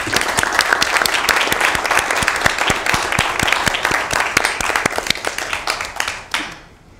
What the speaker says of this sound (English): get a round of applause for all the awardees who attended here tonight